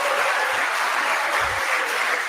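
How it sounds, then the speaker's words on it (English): A canned applause sound effect on a livestream, an even, continuous hiss of clapping at steady loudness with a couple of soft low thumps beneath it. "Trent just wanted that applause"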